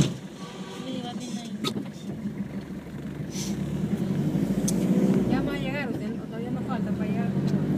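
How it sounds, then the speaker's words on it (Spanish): A car approaches on a road, its low engine rumble swelling toward the middle and staying under continuous nearby conversation. "Viene carro."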